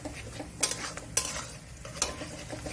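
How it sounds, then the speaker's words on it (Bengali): Two large chopped onions frying in refined oil over a medium flame: a low sizzle broken by three sharp scrapes of a spatula stirring against the pan. "পেঁয়াজটি হালকা করে ভেজে নেব মিডিয়াম ফ্লেমে"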